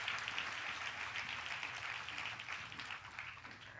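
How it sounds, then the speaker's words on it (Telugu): An audience at a couple's felicitation gathering claps steadily and continuously, a dense, fairly distant wash of applause with no voices over it. "బిగ్గరగా చప్పట్లు కొడుతూ దేవుని మహింపరుద్దామా"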